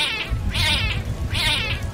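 A cat in a hotel-set adventure video game meows twice, clear drawn-out mews close and loud, each about half a second, separated by a short pause, heard alone.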